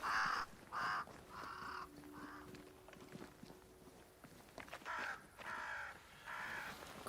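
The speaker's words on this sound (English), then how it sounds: "Crows." Crows caw repeatedly in the forest of the video game Banishers: Ghosts of New Eden, loud harsh calls in bursts at the start and again near the end, with faint footsteps and ambient rustle between.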